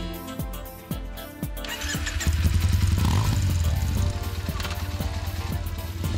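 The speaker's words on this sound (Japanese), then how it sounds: "今日はこのバイクで伊原の海岸線を走ります。" A motorcycle on a coastal route in Mihara, Japan, starts with a few spaced cranking pulses, then catches and settles into a loud, steady, close engine drone with no talking.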